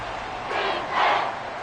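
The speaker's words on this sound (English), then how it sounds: "This crowd doing all they can." A football stadium crowd gives a brief, distant roar of cheering that swells twice over under two seconds.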